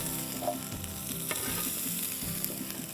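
Asparagus spears sizzling loudly in a really hot pan, a dense, continuous frying crackle that fills the whole stretch with no talking.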